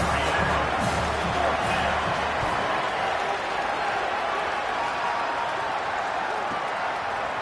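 Stadium crowd in a college football video game, a loud continuous roar and cheer filling the whole stretch, with a low rumble underneath at first.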